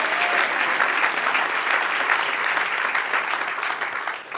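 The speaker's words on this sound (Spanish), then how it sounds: "Dale un aplauso al que vive y reina." Church congregation giving a sustained round of applause in praise during a worship service, dense even clapping from many people throughout, easing slightly at the end.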